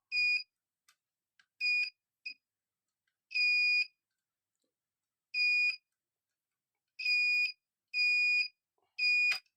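A multimeter in continuity mode beeps while probing a capacitor on an Asus X441M laptop board to check for a short: a series of sharp, clear beeps, some brief blips and some longer tones, coming in irregular bursts against near silence.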